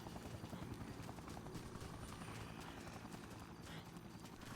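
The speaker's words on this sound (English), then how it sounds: "I'm trying to kill this helicopter with only, salmon." A helicopter in the video game Dead Rising drones as a continuous loud rotor thrum, steady and close for the whole stretch.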